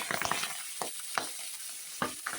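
Pabda fish frying in hot oil, a soft crackling sizzle with a few louder spits and pops scattered across the short stretch.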